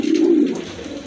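A tall breeding pair of pigeons kept for sale lets out a single close, low, throaty coo that swells and then trails off, with no voices around it.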